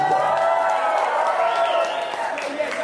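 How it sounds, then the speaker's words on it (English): Loud applause at a wedding reception for the groom, sustained dense clapping with some cheering that eases slightly toward the end, a voice faintly under it. "So, a round of applause to Joe as well."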